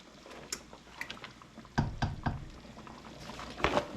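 Homemade noodles cooking in a pot of boiling water, soft bubbling and splashing with a few louder plops and clatters as pieces drop in, no talk.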